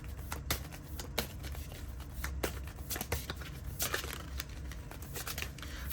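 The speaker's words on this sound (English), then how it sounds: "I'm gonna get another card here for this deck" Oracle cards being handled and drawn from a deck, giving repeated soft papery slides and crisp flicks at close range, with light rustling between the sharper snaps and no talking.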